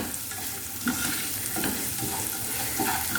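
Capsicum with a little salt fries in a hot pan while being stirred, a dense, steady sizzle with soft scraping and tossing bursts, close and without speech.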